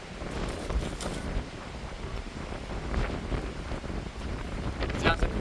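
Strong gusts buffet a winter lake campsite, a loud continuous roar of wind hitting the microphone that surges and swells like crashing surf, with no clear voices.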